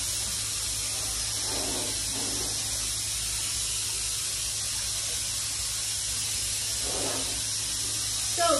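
A steady broadband hiss of a spray gun spraying water while being cleaned after glaze application fills the clip, with a couple of brief bursts of lower rushing sound near the start and end.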